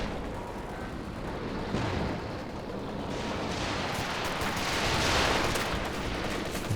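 Battle noise from Company of Heroes 2 with sustained machine gun fire that rattles on throughout, thick and loud, swelling into heavier bursts and blasts toward the middle and end, with no voices over it.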